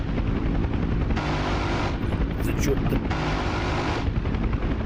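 A Huey helicopter in the DCS flight simulator makes a loud, continuous rotor and engine drone with low rhythmic thumping, while the cockpit dashboard shakes.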